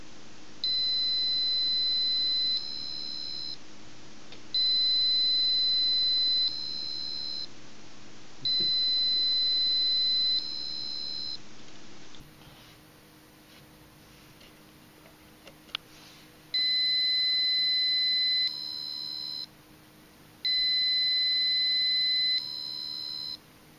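A Boe-Bot robot's small speaker sounds programmed electronic tones: steady high beeps in a regular on-off pattern, three long tones, a quiet pause with faint clicks, then two more, fairly loud and without any talking.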